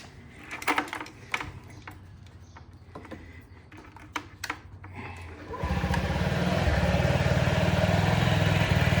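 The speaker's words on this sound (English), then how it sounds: "Let's fire up the Ruckus first." A 2019 Honda Ruckus scooter with a tiny muffler is handled with some clicks and knocks. Its engine then starts and settles into a low, steady, fairly quiet idle.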